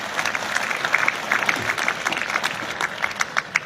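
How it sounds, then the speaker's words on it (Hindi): An audience at a government boys' higher secondary school annual day in Rajouri claps to greet guests, continuous moderately loud applause with sharper individual claps standing out. "मैं जोरदार तालियों से इनका भी इस्तकबाल करता हूं।"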